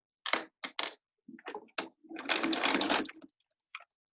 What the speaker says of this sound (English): I'm going to sew forward.